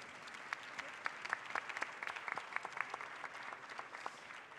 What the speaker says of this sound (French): On peut les applaudir, là, merci.